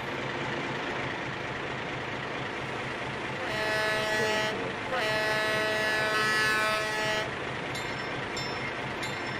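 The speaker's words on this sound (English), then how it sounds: "So the sounds that I'm using on this engine were recorded from East Broadtop M1, which is itself a Brill motor car." A sound-equipped model train engine plays horn tones recorded from the East Broad Top M1, a Brill motor car. Two loud, sustained multi-tone horn blasts sound over a steady running rumble.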